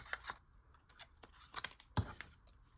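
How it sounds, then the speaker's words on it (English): Close-up scissors snip paper in short, irregular cuts during fussy cutting of a gingerbread-themed junk journal printable, with one sharper, louder snip near the end and no talk. "Don't move the scissors, just move the paper, turning it with your other hand."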